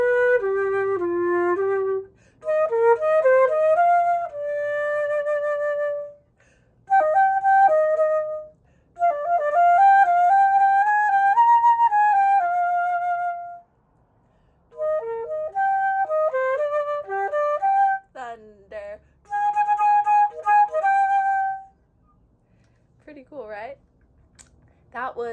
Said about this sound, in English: Here's what the flute sounds like when you put it all together.